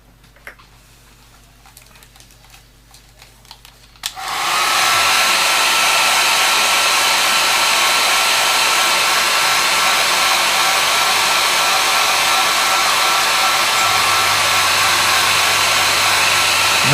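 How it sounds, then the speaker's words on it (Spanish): A hair dryer switches on after a few quiet seconds of small handling clicks and then roars steadily and loudly up close, drying paint on a Bandai palm-size Y-Wing model, its pitch shifting slightly near the end. "dejamos que seque, nos ayudamos del secador"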